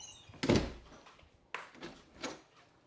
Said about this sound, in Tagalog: Sarado pa natin yung pinto.